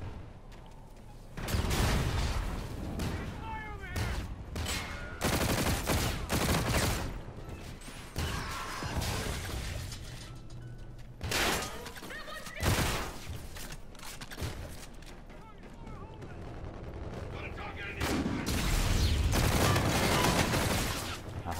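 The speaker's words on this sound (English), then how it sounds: "Yep. Shotguns. Gotta love them." Shotgun blasts go off during a video game firefight: loud, broad bursts fired in irregular clusters with short gaps between them, over a continuous rumble of in-game action.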